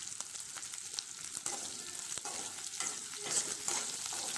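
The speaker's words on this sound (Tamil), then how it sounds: "எல்லாத்தையும் இப்போ நல்லா ஆயிலில் வதக்கி எடுத்துக்கலாம் வெங்காயம் நல்லா பொன்னிறமாக வதங்கணும்" Onions and curry leaves sauté in hot oil for a pumpkin poriyal, giving a continuous close sizzle and crackle with occasional stirring scrapes and no voices.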